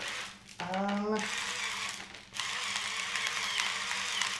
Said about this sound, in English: I do like the salt grinder.